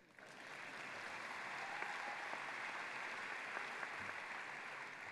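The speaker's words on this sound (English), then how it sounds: "Parents, please applaud if you agree." Parents in a graduation crowd applaud steadily for about five seconds, a dense, even wash of clapping held at a constant level with no talk over it.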